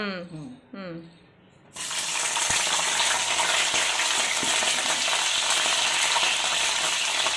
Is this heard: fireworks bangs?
no